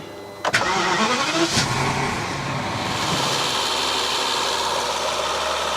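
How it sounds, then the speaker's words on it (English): A BMW N62 or N73 V8 engine cranks and catches after a drive belt replacement, then settles into a steady, loud idle with a broadband rumble that continues to the end. "I think what I'm going to do is just fire the engine up"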